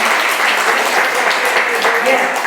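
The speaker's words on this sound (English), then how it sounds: "Clap it up." An audience claps steadily and densely through the whole stretch at a monologue event about survivors, a loud, continuous patter with no clear breaks.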